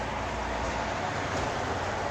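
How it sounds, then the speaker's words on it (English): A dense, continuous roar of traffic rushing past on a nearby highway, broad and steady without pauses. "Sorry about the noise of the highway."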